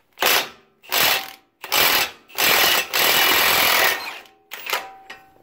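A pneumatic impact wrench hammers on a 36 mm nut during a Honda Accord front control arm bushing job, firing in six loud, close rattling bursts of roughly half a second to a second and a half each, with short pauses between.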